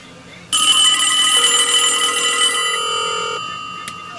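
A telephone bell rings loudly during a ringer test on a home phone line, a sustained metallic ring starting abruptly and holding for about three seconds before fading, with no talk.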